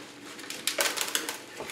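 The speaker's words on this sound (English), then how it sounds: "But I need to get it out of the pot." A Zygopetalum orchid being pulled from its pot, heard as close, dry crunching and crackling of roots and potting medium in short clustered bursts.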